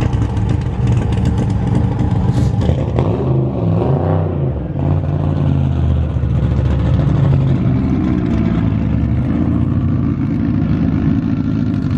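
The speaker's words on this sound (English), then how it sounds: "we're having a pit bike race in the middle of the pit area" Small pit bike engines rev and race through a busy pit area at a half-mile drag event, a loud, steady engine roar with rising and falling revs from several machines and no talk.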